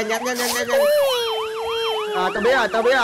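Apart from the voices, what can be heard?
ambulance siren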